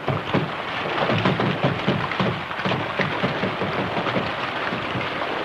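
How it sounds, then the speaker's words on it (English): Steady rain with rumbling thunder in an old western movie, a dense continuous patter with low irregular rumbles underneath, fairly loud and without voices. "Holy smokes, it's raining."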